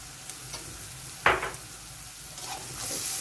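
Black pepper and turmeric go into a pan of sizzling creamy mushroom pasta sauce, with a steady fry under one sharp stir or scrape near the middle and quieter clinks after.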